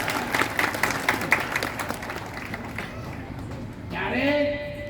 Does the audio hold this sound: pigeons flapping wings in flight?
no